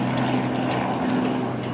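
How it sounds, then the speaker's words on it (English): Helicopter flying overhead on a calm day by the sea, its rotor giving a steady droning hum with a low whirring tone that holds loud and even throughout. "And also a helicopter too"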